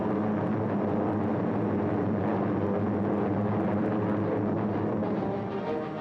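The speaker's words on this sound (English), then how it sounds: "And carrier planes fill the skies overhead." Carrier planes fly overhead above a naval fleet in 1945, a steady, dense engine drone that stays loud and unbroken throughout, with a slight fade at the very end.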